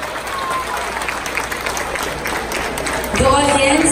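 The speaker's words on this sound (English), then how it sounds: "a round of applause please" Audience applause for a Philippine Army Scout Ranger team at a public demonstration in Cagayan de Oro, dense and steady crowd clapping with some voices mixed in near the end.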